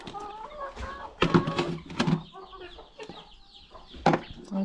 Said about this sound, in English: And the chickens are eating everything here.